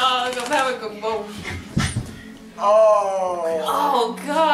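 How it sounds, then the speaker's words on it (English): A dog whimpers in high, wavering whines, with bursts of panting close by, while people talk over it. "Go away, dog."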